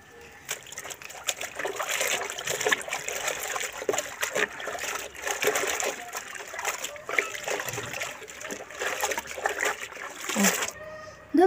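Water splashes and sloshes in a bucket as cloth is washed by hand, a continuous close wet churning with a short bump at the end.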